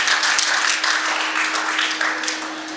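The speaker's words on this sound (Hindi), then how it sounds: "तालियां बजाइए भाई" Applause from an audience at a Hindi poetry festival, a fairly loud wash of many hands clapping that tapers slightly toward the end, with a faint steady tone running underneath.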